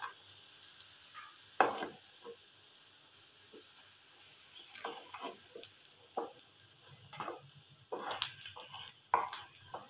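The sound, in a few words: chicken snacks frying in oil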